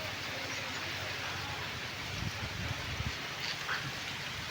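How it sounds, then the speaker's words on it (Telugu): Steady, heavy rain in a windstorm hisses continuously, with a few faint thumps and rustles underneath and no voices. "వర్షం అయితే చాలా గట్టిగా వస్తుంది"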